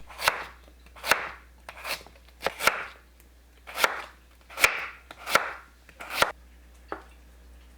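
A knife thinly slices radish on a cutting board, about a dozen crisp, close thuds in an uneven rhythm with short pauses between strokes, no talking.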